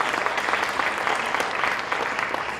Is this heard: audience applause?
yes